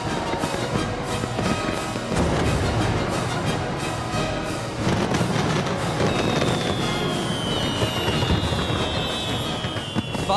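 Fireworks explode in a dense, continuous barrage of crackling bursts and pops, with a rising whistling rocket partway through, loud and without voices.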